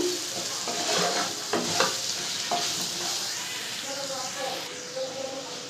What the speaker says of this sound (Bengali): হাফ চামচ মরিচ গুঁড়ো মশলাগুলো দিয়ে এবারে নাড়াচাড়া করে নেব একটু